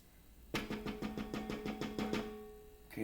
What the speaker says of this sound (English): now what we're going to do is we're going to scrape the sides.